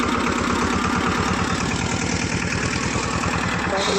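A mini tractor engine runs steadily close by, with a loud, rapid, even diesel chugging pulse that holds unchanged for the whole stretch.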